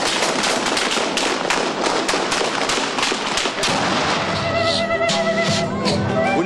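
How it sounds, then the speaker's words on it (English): Rapid crackling bursts of gunfire during a police raid firefight with MRTA members at a house in La Molina, dense and continuous, with sharp overlapping pops that thin out toward the end as a tonal layer emerges. "There's a fierce firefight with the MRTA members inside."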